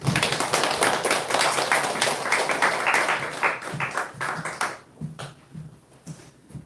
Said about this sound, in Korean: 우리 다시 한번 박수 하겠습니다